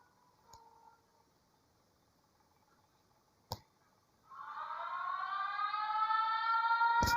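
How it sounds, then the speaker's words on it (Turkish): A wailing siren in the horror video game Gransiren rises and holds loud and steady for the last few seconds, after a quiet stretch broken by two sharp clicks. "Sirenini çalıyor."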